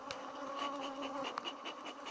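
Honeybees buzz around a hive in a soft, continuous droning hum with overlapping wingbeats, near and fairly quiet, with no voices.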